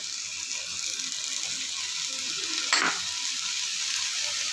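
Soaked chickpeas are added to a hot pan of softened pumpkin for a chickpea and pumpkin curry. A steady, close, high hiss of sizzling continues throughout, with a brief scraping clatter partway through.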